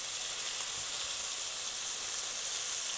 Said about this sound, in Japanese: 触らずに焼きつけるみたいな感じで今焼いています